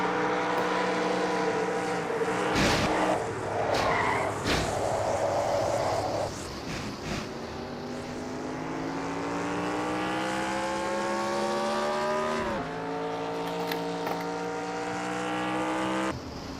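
Onboard sound from Kyle Matthews' race car in an NNSCRA Castrol GTX Cup Series race, a loud continuous engine whine rising and falling through gear changes, with brief sharp bursts that may be tires skidding, no talk.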